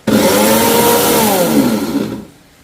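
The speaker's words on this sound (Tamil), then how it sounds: "இப்போ வறுத்தது இந்த அவனை மிக்சி கப்பில் போட்டு அடிக்கட்டும்" A mixer grinder whirs loudly and steadily as it grinds roasted ingredients in its cup for a traditional sweet, then cuts off and winds down near the end.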